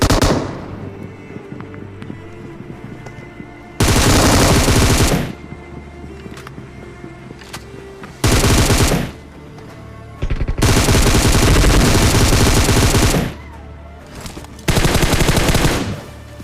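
M249 gunfire in a shooting video game firefight: loud, close bursts of rapid automatic fire in several separate long strings, separated by short quieter gaps with game ambience.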